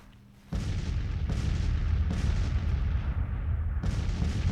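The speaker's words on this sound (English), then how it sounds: "Take a little shelter from the cannon fire." Civil War cannon fire in Grand Tactician: The Civil War, a heavy booming barrage starting abruptly and rolling on continuously with repeated deep blasts, loud and dense, no talking.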